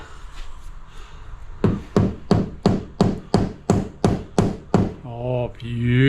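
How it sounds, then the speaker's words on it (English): A rubber hammer taps a window head about a dozen times in a steady rhythm, each strike a loud, close, dull knock, then a voice speaks at the end. "Rubber hammer."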